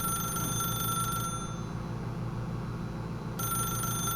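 A telephone rings in the video game The Stanley Parable, two loud, bright electronic bursts with a short silence between them, over a constant low background drone.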